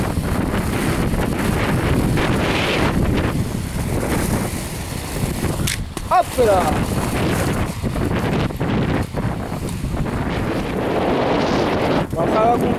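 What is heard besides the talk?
wind while roller skating on roads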